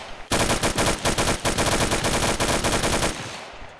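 Sustained automatic gunfire in the military shooter game Arma 2, a loud, dense rapid burst of shots running nearly three seconds before stopping abruptly, with no talking.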